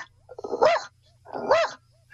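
A person's voice mimics a big dog's bark, giving two gruff, throaty woofs about a second apart, close and fairly loud with quiet between them.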